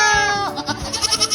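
A goat on a backyard farm bleats in a rapid string of short, wavering calls, close and fairly loud, with no voices over it.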